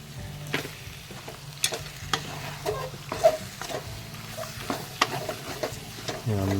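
Country chicken is stirred in a pan with onion and chopped tomato, and it sizzles steadily and fairly loudly the whole time, with repeated scrapes and clicks of the spoon against the pan.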